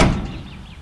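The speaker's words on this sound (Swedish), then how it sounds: "Så där låter 59 Cadillacarna när man stänger dem." A Chevrolet C20 pickup door slams shut in one solid, close thunk whose ring quickly fades, with no talking.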